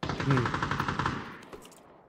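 A rapid burst of automatic gunfire in PUBG, evenly spaced shots rattling for about a second before trailing off into a fading echo.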